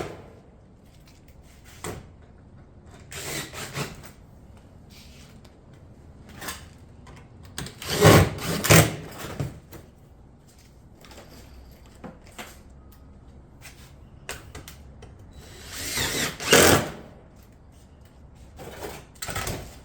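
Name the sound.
fastening cottage shingle panels on a roof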